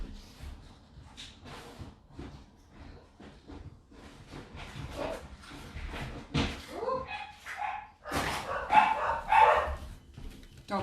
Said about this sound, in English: Dogs are going mad now.